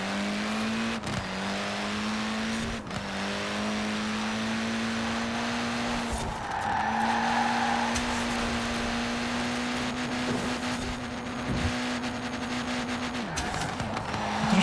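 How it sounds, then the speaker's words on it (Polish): Racing car engine droning steadily in Forza Horizon 4 on Fortune Island, with exhaust backfire pops as brief sharp cracks scattered over the continuous loud engine tone. "Strzały z wydechu."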